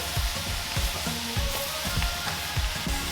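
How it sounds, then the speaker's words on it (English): Cabbage and bacon fry together in a pan for Southern-fried cabbage, a steady loud sizzle broken by rhythmic stirring scrapes about every half second. "Just the cabbage and the bacon. And we're just gonna kind of slightly fry this."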